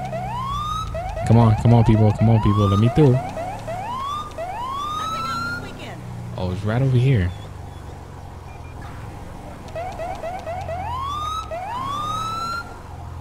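Police car siren from the GTA 5 LSPDFR mod, wailing in repeated rising sweeps and fading in and out through the clip, with someone talking over it in between.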